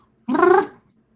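A short, throaty gurgling trill from a cat, about half a second long, close by and fairly loud, with no talking.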